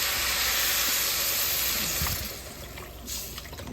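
Water pours steadily into a pan of rice with mild salsa verde, a loud, close broadband rush and splash that eases slightly near the end, with no voices.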